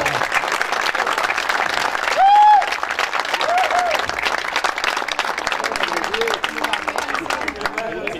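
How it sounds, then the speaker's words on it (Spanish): A rodeo crowd at a club arena applauds loudly and continuously, with a dense wash of clapping. A brief whistle-like tone rises over it, and voices carry underneath. "Vaya para él, un fuerte aplauso y una felicidad."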